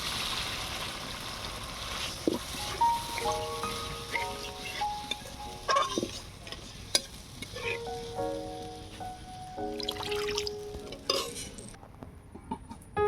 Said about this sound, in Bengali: মশলা থেকে তেলও ছেড়ে দিয়েছে। এবারে দিয়ে দিচ্ছি পরিমাণ মতো জল।